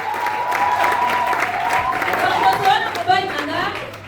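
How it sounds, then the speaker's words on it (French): A church worship audience applauds and cheers, with steady clapping and crowd noise under a voice that carries on over it. "On acclame encore très fort."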